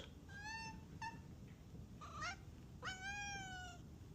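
A cat meows several times at close range: a long drawn meow, a short chirp, a rising trill, then another long meow, each clear against a quiet room hum.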